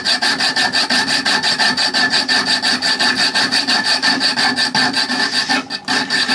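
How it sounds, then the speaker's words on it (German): A hand saw cutting into stainless steel threaded rod, loud rhythmic back-and-forth rasping strokes at a steady brisk pace, close, briefly pausing near the end. "Dann fange ich mal an und säge mal in das Gewinde."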